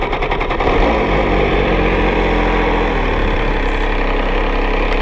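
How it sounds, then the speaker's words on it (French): The MV Agusta 800 Brutale RR motorcycle engine fires up with a rough, unusual start and settles into a loud, close, steady idle, heard alone. "Ça fait un bruit bizarre au démarrage, hein, t'as vu? C'est pas un bruit courant."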